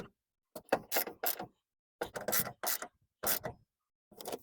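Bolts on a Toyota window regulator being tightened with a ratchet, short bursts of close clicking mechanism separated by brief pauses, fairly faint with no talking.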